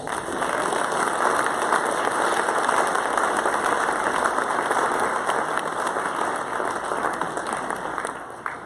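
Steady, full applause from a convention crowd at an opening ceremony, many hands clapping in a thick, unbroken roar that tapers slightly near the end.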